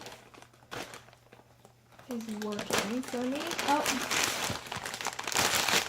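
A book parcel is ripped open by hand. Paper and packaging tear and crinkle in rustling bursts close by, while someone talks throughout.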